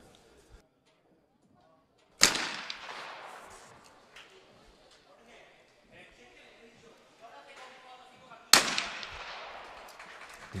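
Two loud, sharp shotgun reports at Olympic trap shooting, one early and one late, each ringing out over the range, with faint commentary murmuring in the quiet between them.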